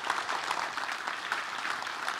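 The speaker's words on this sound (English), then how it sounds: "Please give her a round of applause" A forum audience on a conference stage breaks into sustained applause, many hands clapping evenly and densely at moderate loudness with no voices over it.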